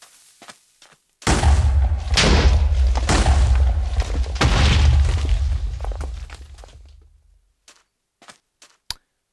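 Minecraft TNT detonates with a sudden loud boom, followed by several seconds of rumbling blast debris that fades out, then a few faint scattered clicks and thuds.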